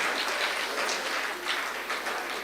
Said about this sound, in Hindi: आप ताली बजाना तो बजाइए, आप ताली तो बजाइए कम से कम।